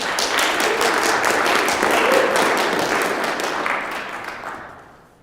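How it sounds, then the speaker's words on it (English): Audience applause at a senior capstone thesis presentation, a steady dense wash of clapping that holds for several seconds before fading out toward the end. "we can give a round of applause to welcome Juniper"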